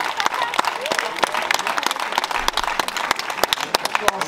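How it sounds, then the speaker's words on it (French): Crowd at a cinema premiere for the film Ducobu, including children, greets guests Élie Semoun and Loïc Legendre with lively, close applause full of sharp individual claps and excited voices mixed in. "je vous demande de faire un tonnerre d'applaudissements à nos invités, Loïc Legendre et Élie Semoun"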